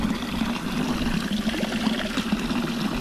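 Cold, drinkable spring water at Rila Monastery runs steadily from a tap, a soft, continuous trickle and splash that is fairly close with no one speaking.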